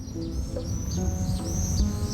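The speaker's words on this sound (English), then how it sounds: "some swifts have managed to find suitable nesting places" Swifts call among steel and concrete buildings in a city, a run of short high chirps and screeches over a low background hum.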